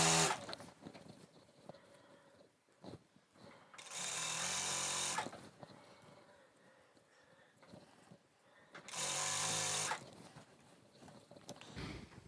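A sewing machine stitches elastic onto a garment in two loud bursts of a few seconds each, with quieter fabric handling and clicks between and around them.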